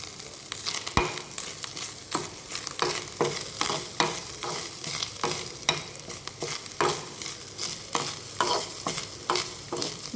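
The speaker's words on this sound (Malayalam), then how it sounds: "അത് ബ്രൗൺ കളറാകുന്നവരെ നമ്മളിങ്ങനെ വഴറ്റിയെടുക്കുക" Grated coconut scraped and stirred in a hot pan while sautéing toward brown, a steady sizzle under repeated scraping strokes of a spoon, close and continuous with no talking.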